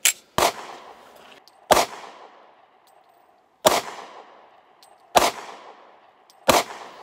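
A Kahr P40 pistol fires five separate sharp shots at uneven intervals, each loud crack followed by a short echoing decay, with no talk between them.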